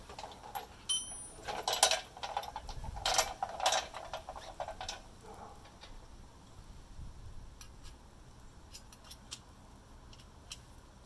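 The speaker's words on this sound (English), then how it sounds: "Now we're going to take off these other bolts, which are not a 14mm." Clicking of a ratchet loosening larger bolts, around 17 mm, on a 2007 Lexus RX350 during emergency brake replacement: a close series of quick ticking bursts early on, then fainter scattered clicks fading out.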